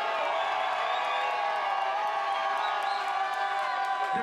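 Crowd at a Chicago battle rap event cheering and whooping, a sustained bright roar of shouts and cries with scattered claps, continuous and loud throughout.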